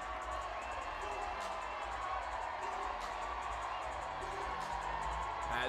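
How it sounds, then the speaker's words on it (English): A boxing arena crowd in Detroit gives a sustained ovation at a fighter's entrance, a distant, steady roar of cheers and whoops over a continuous low arena hum. "now you hear the ovation of the crowd"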